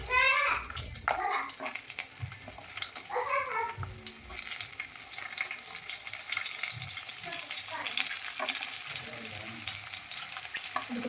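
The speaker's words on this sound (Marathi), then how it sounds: "आता तेल तापू द्यायचे चांगलं त्यात पहिलं आपण आता मिरची टाकणार आहेत मिरच्या टाकायच्या" Green chilies hit hot oil in a pan and sizzle and crackle steadily, with stirring scrapes and someone talking over the frying.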